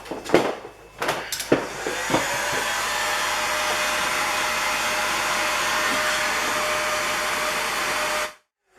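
A heat gun shrinks heat shrink tubing over wires while LED work lights are wired onto a Kubota BX series tractor. A few sharp clicks and handling knocks come first, then a steady, loud blowing whir runs for several seconds and cuts off abruptly.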